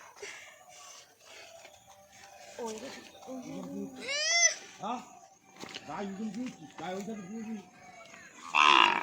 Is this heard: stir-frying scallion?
no